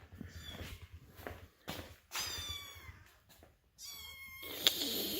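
Cats meowing in a garage workshop, a series of repeated close meows and wails with soft shuffling between them, fairly quiet overall.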